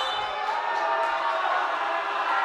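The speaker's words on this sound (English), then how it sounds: "this Mountain Vista crowd is ruthless, letting her hear it" A hostile Mountain Vista home crowd jeers a Ponderosa server at a high school volleyball match, a steady, dense wall of indoor crowd noise sustained throughout.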